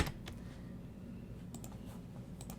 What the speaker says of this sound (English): We're going to type my name in.